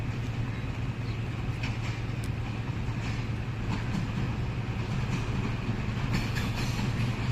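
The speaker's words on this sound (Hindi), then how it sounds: "8 डाउन तेज़गाम एक्सप्रेस को निकाल दिया जाएगा।" The Tezgam Express passes through Jhelum railway station in Pakistan with a steady, loud low rumble of the railcar and locomotive. Faint rattles and clanks rise over the continuous drone throughout, with no voices.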